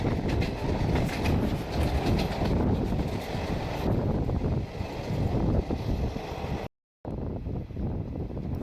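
The Chakradharpur–Bokaro–Howrah Express rushes past close by on an adjacent track, a loud rumbling roar with rhythmic wheel clatter and wind buffeting, heard from a moving train and briefly cutting out near the end.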